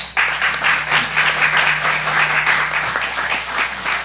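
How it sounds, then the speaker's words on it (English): Audience applause at a Republican Party primary candidate forum in Rutherford County, steady sustained clapping from a crowd lasting about four seconds with no talk over it. "Let's give them a round of applause."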